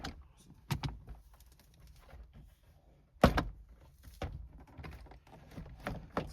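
Plastic clips on a Subaru WRX door trim panel snapping loose as the panel is pried off, giving a few sharp, close pops spread across the stretch with quieter handling noise between.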